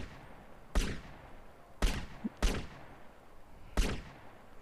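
Sniper rifle shots ring out in GTA San Andreas, four separate loud cracks spaced about a second apart, each with a short fading tail and nothing else around them.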